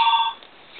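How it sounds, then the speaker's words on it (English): A telephone rings with a bright, electronic tone, loud for a third of a second before cutting off, followed by a faint trailing hum and no talk. "It's just the phone ringing, don't worry."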